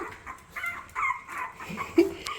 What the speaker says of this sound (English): So these are Luna's little puppies